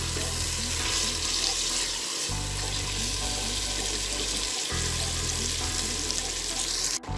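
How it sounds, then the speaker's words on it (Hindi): Chicken pieces fry in a pot for pulao, giving a dense, continuous sizzle with watery hiss that runs on steadily with a couple of brief breaks. "चिकन को हम इसके अंदर फ्राई करेंगे।"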